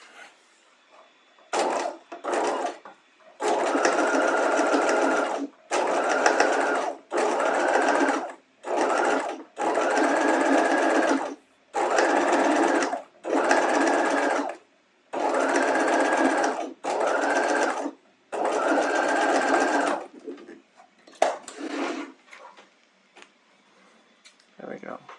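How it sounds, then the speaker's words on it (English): A sewing machine runs in a series of short, even bursts of rapid stitching along the edge of bias binding for a Hong Kong seam finish, with brief pauses between runs. "you can stitch right on the edge of the bias, about 1/16 of an inch away from that seam"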